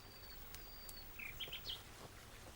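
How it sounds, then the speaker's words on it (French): A nightingale sings at night, a few brief high chirping phrases rising out of quiet background hiss, fairly faint and heard alone without any talk. "Ah, vous entendez? Écoutez-leur, leur rossignol."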